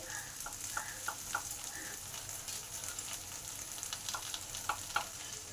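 Okra sizzles in a pan with ground masala paste, a steady fry hiss broken by a run of sharp stirring scrapes and clicks, close and fairly loud, with no one talking.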